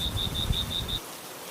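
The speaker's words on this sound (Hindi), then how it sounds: "तेज बारिश हो रही है" Heavy rain at night makes a steady, dense hiss, with a cricket chirping in quick regular pulses above it before the chirps stop and the rain continues.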